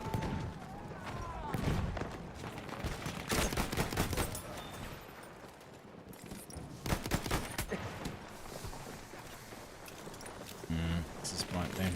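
Rapid gunfire in the Battlefield 6 video game, with repeated close bursts and scattered single shots, often under someone talking.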